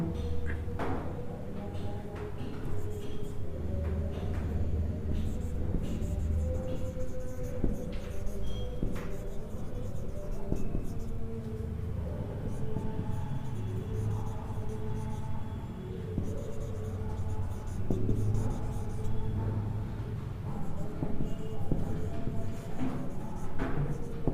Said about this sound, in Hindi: एक एग्जांपल लिखता हूं मैं